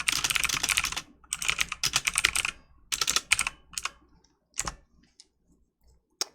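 Typing on a computer keyboard during a live stream, bursts of rapid close key clicks in uneven runs separated by short pauses, tapering into a few isolated taps at the end.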